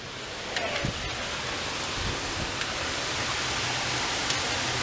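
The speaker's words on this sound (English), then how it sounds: "the rain is so loud right now" Heavy rain pours down during a thunderstorm, a steady, dense hiss of downpour that holds at an even level throughout with no pauses.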